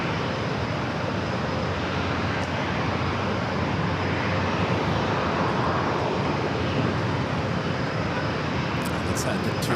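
A jet airliner roars steadily while landing on runway 27 at San Diego airport, a loud continuous broadband rumble heard from a distance with air-traffic radio voices faintly underneath.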